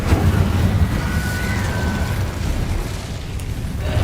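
A Harry Potter video game's Incendio fire spell gives a sustained roaring, crackling blast that holds loud for several seconds before easing slightly.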